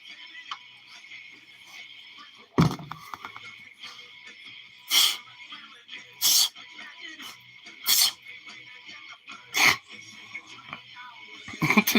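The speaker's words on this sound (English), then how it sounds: "This dog, when he starts sneezing" A dog sneezes repeatedly, with about five sharp, bright bursts spaced a couple of seconds apart over quiet background noise.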